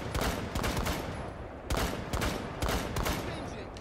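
Gunfire in the tactical shooter game Rainbow Six Siege: three loud, dense bursts of rapid shots, each about a second long, separated by brief pauses, with faint voices in the background.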